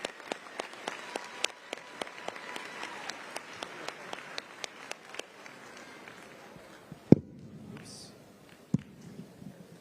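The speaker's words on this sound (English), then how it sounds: "Let's give them one more round of applause." Audience applause at a 2024 high school graduation ceremony, a dense patter of clapping for the band that gradually thins out and stops around the seventh second, leaving a few isolated bumps.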